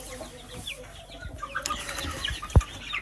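Month-old Wyandotte chicks cluck and peep softly around a farmyard coop, a scatter of short calls with one louder squawk near the end, close by and without talk.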